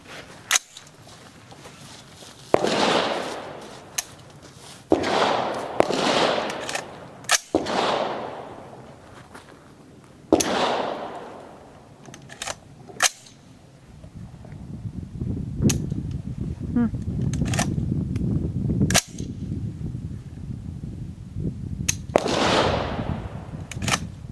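An AR-15 rifle chambered in 7.62x39 fires a series of sharp, loud single shots outdoors, irregularly spaced with pauses between them, each crack trailing off into echo, with wind or rustling noise filling the later part.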